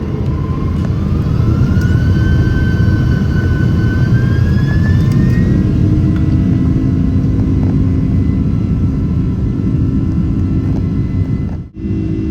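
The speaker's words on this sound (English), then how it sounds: "we lined up on the runway and spooled up to head north for our flight to Sapporo" Airliner jet engines spool up on the runway before a takeoff bound for Sapporo, a loud, steady roar with a rising whine that holds throughout and dips briefly near the end.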